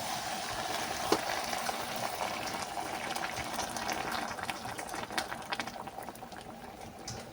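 Hot water is poured into a bubbling pot of curry, with a steady simmering hiss and sizzle and occasional soft clinks, fairly quiet and close.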